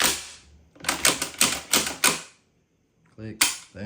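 Panzer M4 shotgun action clicking in a rapid series of five sharp, loud clacks, a pause, then a few more close mechanical clicks, with no talking.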